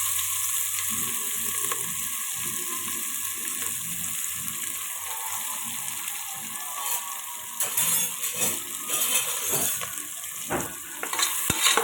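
Thinly sliced onions sauté in oil in a pan with a steady, close sizzle and repeated scraping and stirring strokes, growing busier and louder toward the end; no voices.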